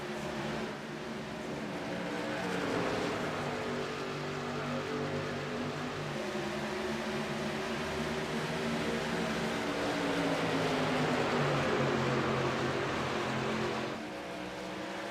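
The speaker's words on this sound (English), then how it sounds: "We're going to go green flag racing here once again in the Sim Racing Hub Truck Series." Trucks racing in a sim racing truck series at Daytona, a steady, dense engine drone with layered tones that swell and shift as the pack runs the banking, continuous and without talk.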